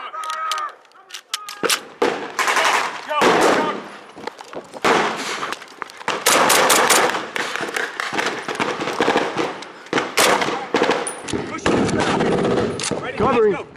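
Dense, continuous gunfire from a WWII reenactment battle in a town at Linden, Tennessee, with rapid machine-gun bursts and rifle shots overlapping loudly and close for the whole stretch, shouted voices breaking in between.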